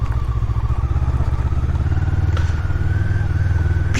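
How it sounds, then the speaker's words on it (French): Honda CB500 motorcycle ridden off-road on a rough wooded track, its engine thrumming steadily up close with a throbbing pulse, clattering over bumps, no speech. "une CB500, c'est pas une moto tout terrain"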